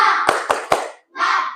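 Classroom of students doing a rhythmic spirit clap, three sharp loud claps in quick pattern followed by a short pause and a burst of massed clapping, close and energetic.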